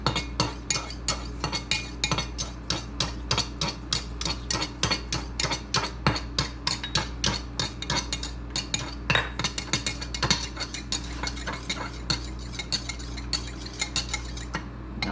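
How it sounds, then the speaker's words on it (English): A spoon stirs yeast into swirling water in a bowl for bread dough, clinking rapidly and steadily against the sides in a quick, even rhythm over a low background hum. "I like to kind of get the water swirling a little bit"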